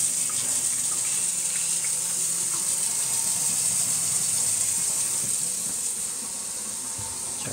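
With the household main water supply turned back on, water rushes and hisses steadily through the pipes and a stainless steel utility sink tap for several seconds, even and unbroken, easing slightly near the end, with nobody speaking.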